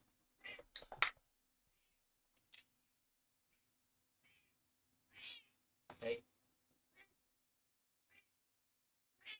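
A hungry house cat meows several times, close and fairly loud, in short separate calls spread across the stretch, with brief quiet gaps between them.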